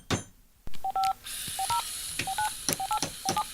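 Telephone keypad tones beep in a quick sequence of about six paired notes, each short and evenly spaced, sharp and near against a faint background hiss.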